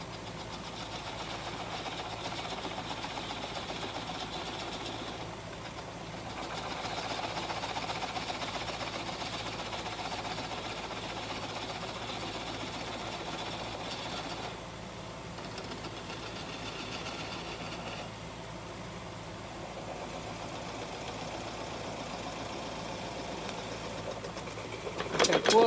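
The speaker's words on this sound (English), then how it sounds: "Using a 3/8 inch detail gouge." A wood lathe runs steadily while a 3/8 inch detail gouge cuts the spinning piece, a continuous motor hum and whirring rasp that swells and eases slightly across the stretch, with a sudden louder jolt at the very end.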